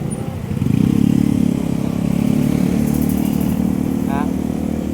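Motorcycles ride along a busy road in Quezon City, their engines droning and rising as one passes close, with steady traffic rumble and a brief horn-like chirp near the end.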